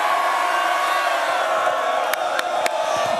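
A college football GameDay crowd roars steadily, a dense wall of cheering and whooping, loud and continuous, with a few sharp claps or clicks near the end.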